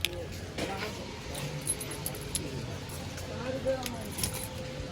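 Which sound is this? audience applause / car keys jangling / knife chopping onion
car keys jangling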